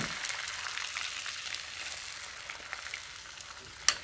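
Water hitting a lightly oiled frying pan sets off a steady, close hiss of sizzling that holds for several seconds and ends in one sharp clink.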